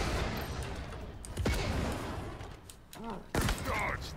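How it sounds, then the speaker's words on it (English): Grenade blasts from the Halo Infinite campaign boom through heavy in-game gunfire and combat noise, with several sharp, loud bursts spaced across the few seconds. "Stop throwing grenades at me."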